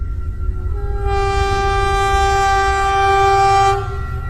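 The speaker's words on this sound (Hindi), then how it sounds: "और फिर ये ट्रेन स्टार्ट हो जाती है।" Cartoon sound effect of a zombie train starting up: a loud, steady multi-tone train horn blares for several seconds over a low engine rumble, then cuts off.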